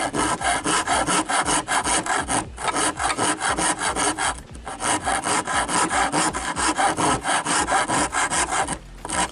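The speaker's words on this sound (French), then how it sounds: "vous faites le gros du travail avec la grosse lime" A large coarse file rasps back and forth across a piece of wood to round it off, loud rhythmic rubbing strokes in quick succession with a few brief pauses, close up and without talk.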